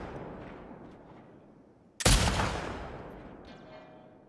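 A single loud gunshot in The Last of Us Part 2, fired at a sign, cracks sharply after quiet ambience and rings out with a slowly fading echo.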